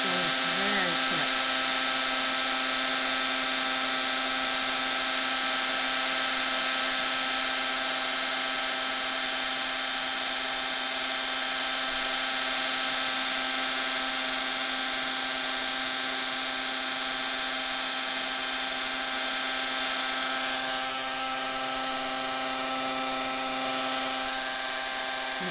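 An embossing heat tool runs while warming a holiday card, giving a steady, continuous whirring hum with a high airy hiss that holds for the whole stretch under a voice.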